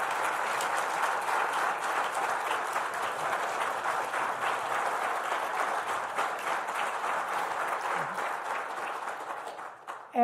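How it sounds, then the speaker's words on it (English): Sustained applause from a conference audience at an international security policy forum in Dublin, a dense even wash of many hands clapping for about ten seconds, tapering slightly at the end. "I'd like a particular round of applause for our 2 signers who have been tireless all day long."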